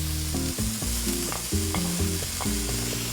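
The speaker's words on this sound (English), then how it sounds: "Now we saute this for a little bit too." Tomato with zucchini and corn sautéing in a pan for calabacitas, a continuous busy sizzle with stirring scrapes, close and steady, no voices.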